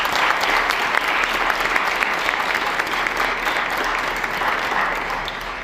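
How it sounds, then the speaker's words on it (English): An audience at a performing arts center gala applauds steadily, a dense wash of clapping held at even strength, then thinning slightly as it fades toward the end. "Let's give them a round of applause."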